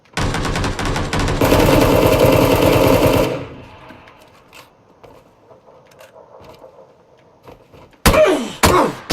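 Automatic gunfire from a battle royale shooter match in PUBG, a loud sustained burst of rapid shots for about three seconds, then quiet ambient game sound before another sharp burst of shots near the end.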